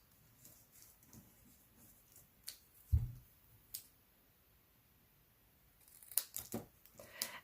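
Scissors trimming a stamped paper card piece for a handmade card, heard as quiet, sparse snips and a few crisp paper cuts close by, with pauses between them.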